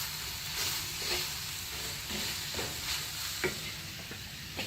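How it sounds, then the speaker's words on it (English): Green salsa ingredients sizzling and being stirred in a hot pan, a steady frying hiss broken by soft scraping stirs, close and alone without talk. "let me mix this up a little bit because I don't want it to stick."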